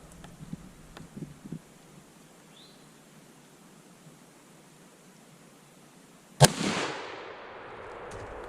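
A Winchester Model 94 lever-action rifle in .30-30 fires a single loud, sharp shot outdoors near the end, its blast trailing into a broad decaying echo after a quiet stretch with faint scattered clicks.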